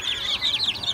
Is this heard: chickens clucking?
yes